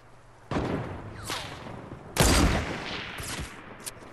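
Gunfire in a 50 v 50 battle royale video game match: several loud bursts of rapid shots, near and forceful, separated by short pauses, with no speech over them.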